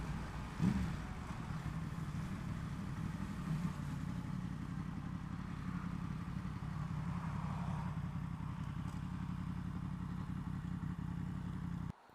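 Steady Yamaha MT-10 motorcycle exhaust rumble, low and continuous for several seconds, idling with slight variation before cutting off abruptly.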